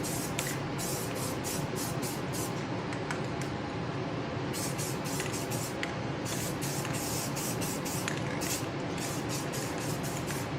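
Satin paint is sprayed on as a light misting tack coat. The spray hisses steadily and softly the whole way through, with brief pauses and bursts as the nozzle is triggered.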